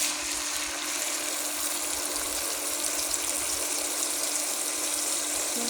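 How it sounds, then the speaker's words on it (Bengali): Water poured into spice paste frying in a pan for a broiler chicken curry, a steady rushing gush with sizzle, continuous and fairly close, no talk. "মশলার মধ্যে আমি একটু জল দিয়ে দেবো। মশলা কষানোর জন্য"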